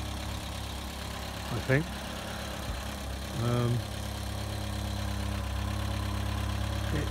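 A Talbot Express Harmony camper van with a 2-litre petrol engine and over 120,000 miles idles in a steady low rumble throughout, with someone speaking briefly over it.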